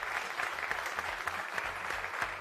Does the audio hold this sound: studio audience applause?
yes